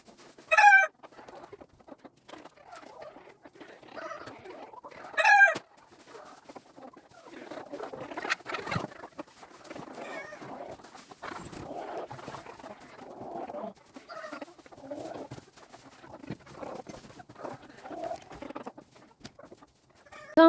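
Chickens cluck and murmur steadily inside a coop, close by, with two brief louder squawks or crows standing out near the start.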